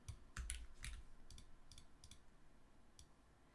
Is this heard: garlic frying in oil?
no